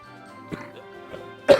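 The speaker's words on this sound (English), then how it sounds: "I'm coughing to death." A gamer coughs during a Super Mario Bros. Wonder session, two short coughing bursts close to the mic, the second louder and harsher, over a quiet steady hum.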